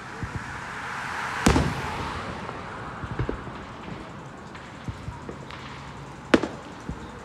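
Independence Day fireworks burst in two sharp, loud blasts several seconds apart, with scattered smaller pops and crackles in between against a steady outdoor background.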